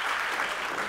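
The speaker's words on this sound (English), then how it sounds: "I suggest at this point that we give a round of applause to Baptiste." Audience applause at a sport marketing conference lecture, steady dense clapping filling the hall for a short burst, with no voices over it.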